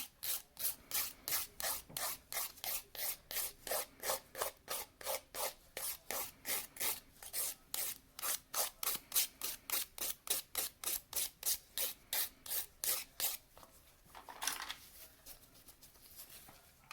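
A nail file roughs a gel nail surface with dozens of steady, evenly paced scratchy strokes, close and fairly soft, slowing near the end.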